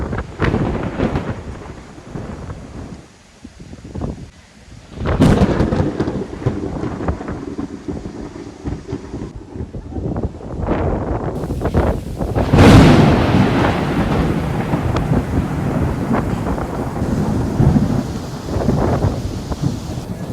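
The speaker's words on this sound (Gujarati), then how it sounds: "વરસાદ ચાલુ થઈ ગયો." Rain falling steadily with rumbles of thunder during a monsoon storm in rural Gujarat, a broadband wash running throughout with a louder burst around the middle, no voices present.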